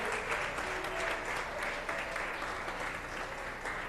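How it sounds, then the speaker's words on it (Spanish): During a church service, a congregation applauds in praise of God, producing a steady, even wash of clapping heard from a slight distance. "démosle un aplauso de alabanza al Todopoderoso"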